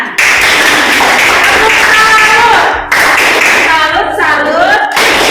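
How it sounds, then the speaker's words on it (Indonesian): Students clap together in a high school classroom, a dense, steady patter of applause running throughout while voices and cheers ring over it. "Tepuk tangan."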